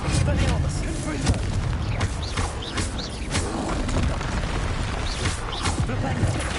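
Blasting spells burst repeatedly in the Hogwarts Legacy video game, a dense run of booming explosions and impacts that fills the whole stretch, with a voice calling out spell names over the combat.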